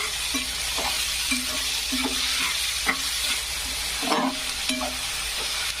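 Salted onions fry in a pan for egg bhurji, a steady close sizzle broken by regular scraping strokes of a spatula stirring them and a brief clink of metal.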